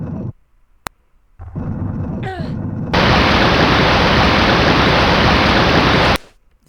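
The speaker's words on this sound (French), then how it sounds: "Vous avez entendu, ici, nous avons donc de l'eau qui s'est écoulée" In the Tomb Raider game Crystal of Life, Palace of Hades level, a loud steady rushing of water draining away runs for several seconds and then cuts off abruptly, after a few quieter clicks and effects.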